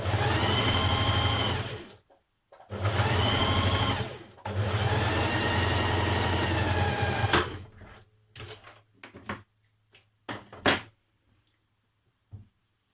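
A sewing machine stitching the back pockets of a Simplicity 8554 unlined coat hums in two short close runs and then one longer steady run, followed by scattered clicks and handling knocks as it stops.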